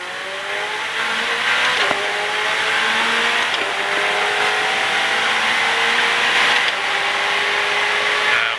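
A Ferrari 488 Challenge Evo race car powers out of a corner on track, its engine rising in loud, sustained revs with a gear shift or two, heard steadily from close by.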